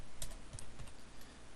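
Typing on a computer keyboard that is acting up, a few quiet scattered key clicks in a short burst, faint against background hiss.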